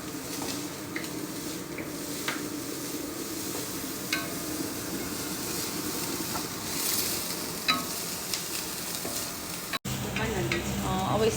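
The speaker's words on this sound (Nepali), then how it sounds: "यसलाई फ्राई गर्ने" Onions frying in a pan, a steady close sizzle with scraping stirs and occasional utensil taps, a brief dropout near the end followed by a fuller, louder frying sound, no talking.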